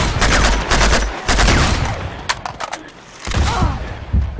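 Gunfire in the video game Uncharted 2 during Sanctuary survival mode, loud bursts of rapid shots and single cracks in clustered volleys separated by brief lulls, close and punchy.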